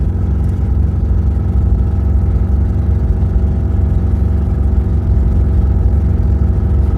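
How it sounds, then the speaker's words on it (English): A car engine with a newly replaced timing belt pulls uphill in third gear, a loud, steady, low drone from close by that holds an even pitch throughout, with no voices. "it's a third gear uphill pull"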